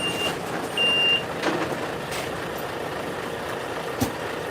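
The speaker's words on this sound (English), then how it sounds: "Yeah, they're weighing another truck essentially." A truck on a slaughterhouse weighbridge sounds a couple of short reversing beeps over a steady engine rumble, with a few sharp clanks and air-brake hisses nearby.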